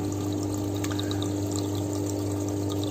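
Water from a fully opened tap pours steadily into the filter of a 60 cm goldfish aquarium, a constant close rush with a low pump hum beneath and scattered bright droplet splashes.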